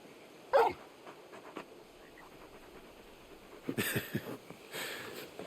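Torgal, the large dog companion in Final Fantasy XVI, gives a sharp bark and a few shorter yips and whimpers over a quiet game soundscape, with faint talk in the background.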